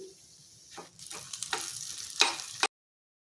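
Hot oil crackles and sizzles in short bursts as spices, asafoetida and Kashmiri red chilli, hit it for kadhi tempering, building briefly with a few sharp pops before cutting off.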